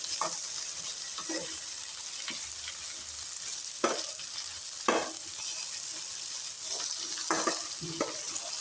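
Okra frying in a pan together with chili and garlic gives a steady close sizzle, broken by several sharp clacks of a utensil stirring against the pan.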